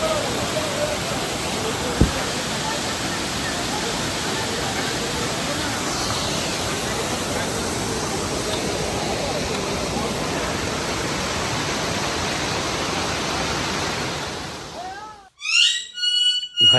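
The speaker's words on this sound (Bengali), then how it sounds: "এই হচ্ছে রক গার্ডেনের হচ্ছে ঝর্ণা" A waterfall in a rock garden on a hill trip roars as a steady, loud broadband rush that fills the clip, then cuts away near the end, where brief voices are heard.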